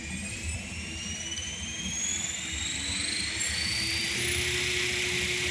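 A radio-controlled Blackhawk helicopter drone's rotors spool up, a loud, steady buzzing whine with tones that climb gradually as the rotor speed builds, continuous throughout with no talk.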